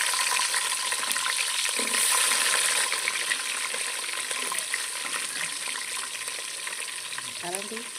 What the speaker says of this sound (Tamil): அவ்வளோதான் காஞ்சிடுச்சு வெங்காயத்தை போடு